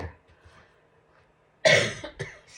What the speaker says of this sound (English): sniffing and coughing in your ear